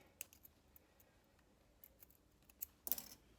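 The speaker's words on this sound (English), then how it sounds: "Snip the threads" Sewing scissors snip threads on fabric with a few faint, sharp clicks close by, scattered across a quiet background and ending in one slightly louder cut.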